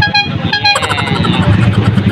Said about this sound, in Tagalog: pawakita yung motor, yung mga upgraded ni Anton